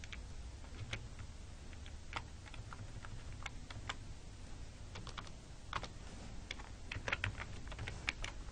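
Someone types on a computer keyboard, producing a quiet, close run of irregular key clicks with scattered sharper presses, including an Enter keystroke, over a faint background hum.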